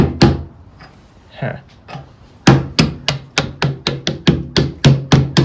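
A few scattered knocks and a brief voice, then a hammer taps a metal part through the steering of a Wheel Horse 706 tractor chassis in a steady run of about a dozen sharp, close strikes.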